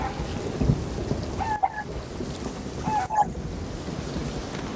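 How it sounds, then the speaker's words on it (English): A video-game thunderstorm: steady rain hisses throughout while two sharp thunder cracks from lightning strikes break through, each followed by a short rumble. "Ow, I just got hit by lightning."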